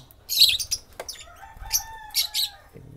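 A young lovebird in its nest lets out several sharp, high chirps and squawks in short bursts, close by, with faint rustling between calls.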